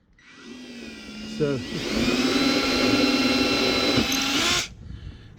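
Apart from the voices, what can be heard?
drilling with a 4mm drill bit into a jet ski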